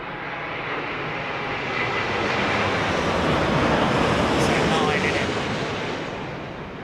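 A Boeing 787 landing on runway 27R at London Heathrow produces a broad, rushing jet roar that swells and slowly fades over several seconds, loud and sustained.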